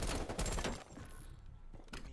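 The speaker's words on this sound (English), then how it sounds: "It's a 3-round burst gun." A 3-round burst rifle fires in a Call of Duty Black Ops Cold War multiplayer match, with rapid loud bursts of gunfire crowding the first second and another brief burst near the end, with quieter game noise between.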